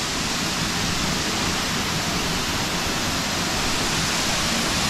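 Choma Waterfall in the Uluguru Mountains near Morogoro roars as a dense, constant wash of falling water, loud and close, with no voices.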